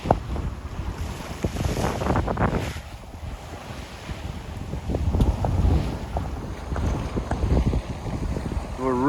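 Tradewind 35 sailing yacht running at about 7 knots under full main off the Scilly Isles, with steady wind buffeting the microphone and water rushing along the hull, close and continuous.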